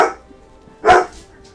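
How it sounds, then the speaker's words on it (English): A dog barks twice, one short bark at the start and a louder, nearer one a moment later, with brief quiet between and no talking. "Dog."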